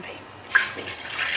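Water poured into a vessel for washing goat meat in a home kitchen, a soft trickling and splashing that swells after a brief clink, fairly close and moderately quiet, with no voices.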